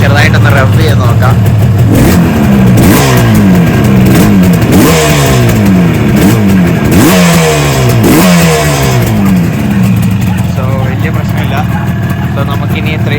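A 1973 USA-spec Yamaha RD 350 two-stroke motorcycle engine blips through a series of loud, close revs, pitch sweeping up and falling back roughly every second, then settling to a rough idle, with someone talking over it.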